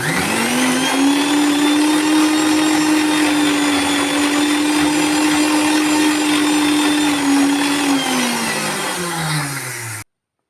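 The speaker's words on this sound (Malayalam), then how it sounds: "ഇനി നമുക്ക് മിക്സിയുടെ ജാറിലേക്ക് 2 കോഴിമുട്ട പൊട്ടിച്ചിടാം." A mixer grinder jar whirs loudly while beating two eggs, a steady high motor drone that holds for about ten seconds before winding down and stopping.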